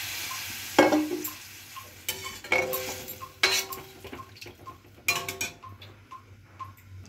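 Sliced radish fries and simmers in a pan with a little added water, a soft steady sizzle punctuated by several distinct clinks and scrapes of a spatula stirring, all fairly quiet and close.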